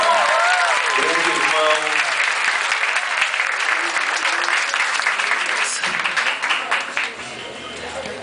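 A concert audience claps for a performer in a sustained burst of applause, with a voice speaking over it early on, before the clapping thins out near the end.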